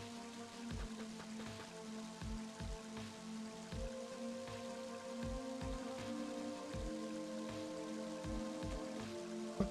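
Rain falls steadily in the Mother 3 video game, a continuous hiss under a repeating game music loop with regular low thumping beats, no talk.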